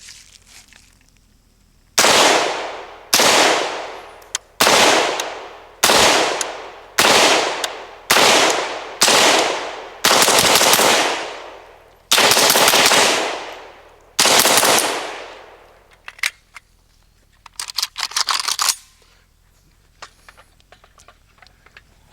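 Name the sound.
KUSA KR-103 rifle firing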